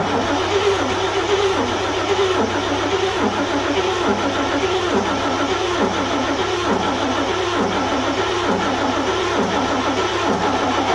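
A 1941 GMC truck engine cranks over with the choke pulled, a steady rhythmic chugging of the starter turning the engine without catching, continuous and fairly loud throughout.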